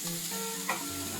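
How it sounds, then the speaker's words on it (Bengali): Chopped fenugreek leaves fry in oil over low heat in a pan, a soft, steady sizzle with a faint stir partway through, quiet and close. "কেটে রাখা মেথি শাকগুলো 5 থেকে 6 মিনিট পর্যন্ত আঁচ কমিয়ে ভালো করে ভেজে নেব"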